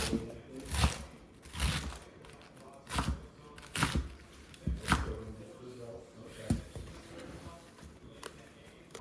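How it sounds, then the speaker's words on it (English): A knife chops a vegetable on a cutting board, first cutting vertically and then horizontally, in sharp, evenly spaced thuds about once a second. A voice speaks between some of the strokes. "then we're gonna cut vertically, and then we're gonna chop horizontally"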